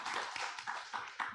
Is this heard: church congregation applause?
yes